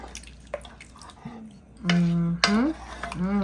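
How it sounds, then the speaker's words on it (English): A spoon stirs Guinness beef stew with carrots and potatoes in a pot, with faint scraping and wet dripping sounds, while a person talks over it. "Let's give it a quick stir."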